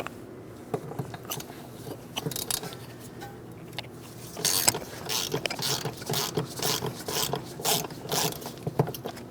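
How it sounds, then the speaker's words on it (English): Ratchet clicks and scraping while a 10mm mounting nut comes off the fuel filler neck of a 2008-2016 Chrysler Town & Country 3.8L V6, irregular bursts of clicking, close up. "I like to fully remove this mounting nut."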